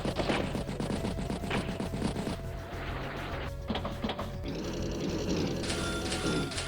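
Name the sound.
battlecopter strike in Advance Wars video game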